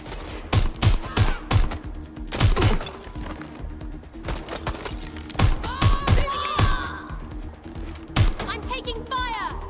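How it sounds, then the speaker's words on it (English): Gunfire from the video game Watch Dogs: Legion: bursts of rapid shots and single cracks come in clusters throughout, loud and close, with voices talking over parts of the exchange. "I'm taking fire!"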